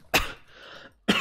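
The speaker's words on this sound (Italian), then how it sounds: "Muoio di tosse." A person coughs twice, two short, harsh bursts about a second apart, close to the microphone with a brief breathy rasp between them.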